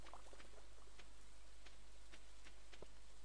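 Light rain from the video game Stardew Valley, a soft steady patter of scattered drops with a few sharper ticks, faint and continuous with no voices.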